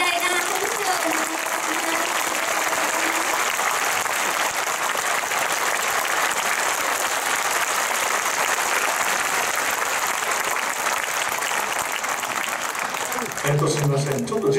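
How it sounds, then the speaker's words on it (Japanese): Sustained audience applause fills a constitution rally hall in Kyoto, steady and dense for the whole stretch, fading near the end as a few voices come through. "もう一度盛大な拍手をお願いします。"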